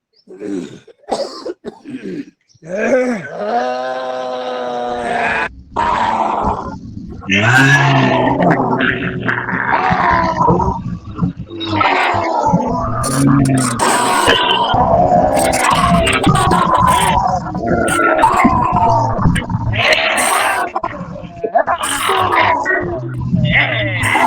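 Yoga class participants imitate a lion's roar together, a long loud stretch of forceful, throaty roaring and growling voices, rough and overlapping, filling the space with little pause.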